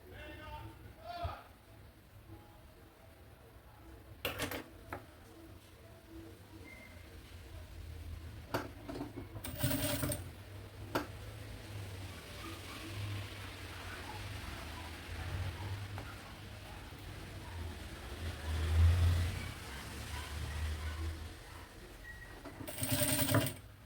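A sewing machine stitches a safety seam right along the edge of a fabric maternity bag, running in intermittent bursts at moderate loudness while someone talks.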